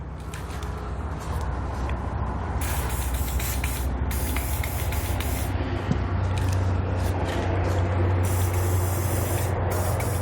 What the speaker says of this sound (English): we're going to take our spray lubricant here, and we're just going to spray down where the metal hanger inserts into the isolator